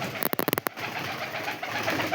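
A short flurry of pigeon sounds up close, quick rhythmic bursts lasting under a second, then quiet background.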